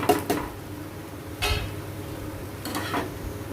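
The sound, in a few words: stirring soybean cutlet mixture with spices in a pan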